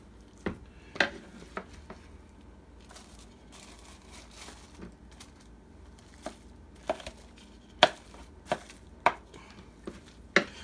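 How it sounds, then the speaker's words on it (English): Churned butter being pressed into a plastic butter mold, giving soft scattered taps, squishes and knocks at an irregular pace over a quiet background. "you're going to start taking your butter and you're going to start packing that into the"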